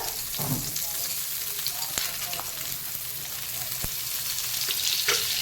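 Butter sizzles and fries in hot oil in a pan, a steady crackle with a few sharp clicks of a utensil stirring, close up.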